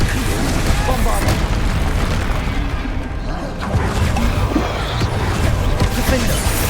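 Bombarda blasting spells in Hogwarts Legacy combat land as loud, heavy booms within dense, continuous battle noise, with a brief dip in the middle before the din resumes.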